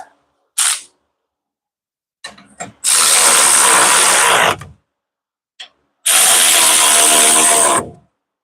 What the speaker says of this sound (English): Where is my ratchet?